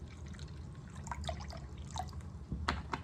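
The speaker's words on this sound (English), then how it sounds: "I just used Minute Maid pulp-free orange juice. And pour a cup in there" Pulp-free orange juice being poured into a measuring cup while making fajitas, a soft, close liquid trickle with drips that swells into a fuller splash near the end, with no talking.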